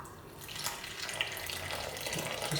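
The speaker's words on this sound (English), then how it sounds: "I'm gonna add in some warm water." Warm water running steadily into a hollow in a mound of flour while making pide dough, a soft continuous trickle heard close up with no talking.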